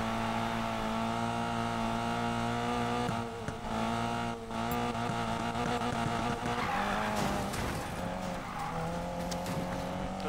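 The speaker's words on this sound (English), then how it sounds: "Tô sabendo fazer drift, mano" A video game car drifting at high speed, a sustained engine drone with a long tire squeal running through, loud and continuous, with brief dips and a surge in the second half; a voice talks now and then underneath.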